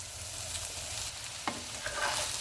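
Fried rice with green onion being stirred in a pan, a steady sizzle running throughout with a sharper scrape of the utensil midway and a few lighter stirring strokes after, with no talking.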